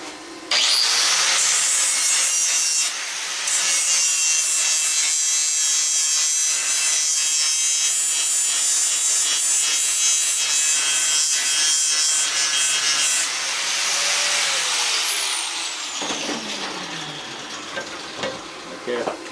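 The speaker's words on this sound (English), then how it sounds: "Let me take the flat disc, what I still have on the angle grinder." An angle grinder with a flat disc grinds metal in a loud, continuous bright rasp that runs nearly unbroken for about fifteen seconds, then winds down and fades.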